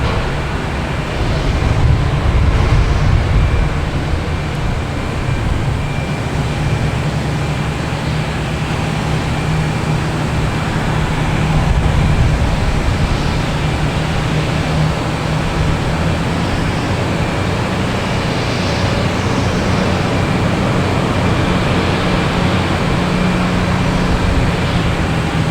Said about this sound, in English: next taking off, we have Spirit Airlines heading to Fort Lauderdale on A321, flight 1301